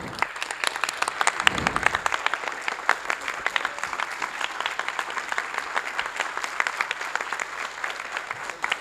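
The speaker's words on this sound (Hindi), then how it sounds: "जितने भी दर्शक यहाँ मौजूद हैं, तालियों की गूंज कम नहीं होनी चाहिए." Sustained audience applause at a Hindi theatre play's honouring ceremony, dense steady clapping from a crowd filling the hall, continuous and even throughout with a brief low thump early on.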